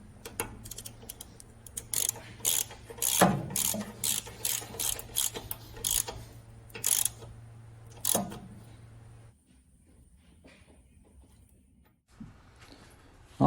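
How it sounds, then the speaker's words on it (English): A socket ratchet clicks in quick bursts of rapid pawl ticks while tightening the drain bolt on a Honda Navi, close and distinct, pausing between strokes before falling quiet. "grab the ratchet and tighten that down."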